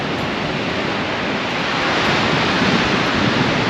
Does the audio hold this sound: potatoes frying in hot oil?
no